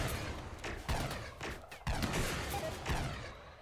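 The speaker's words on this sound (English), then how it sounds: "You can come in here and just start shooting at the turrets." Gunfire aimed at turrets in Rimworld, a faint scatter of quick shots and impacts with a few sharper cracks, heard alone without talk.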